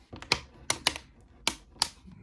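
Sharp plastic clicks from an Otterbox Defender case snapping onto an 11-inch iPad Pro, about five distinct close snaps spaced irregularly over a couple of seconds, with quiet handling between them.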